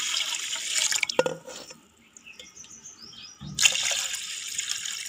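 Fresh water pours onto soaked pearl millet in a kitchen, a close splashing stream in two bursts separated by a quieter pause with faint drips, no talking.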